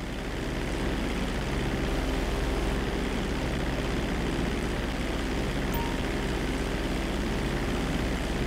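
Low-flying aircraft in Grand Theft Auto V gives a steady, loud propeller-engine drone that holds unbroken and even throughout, with no voices.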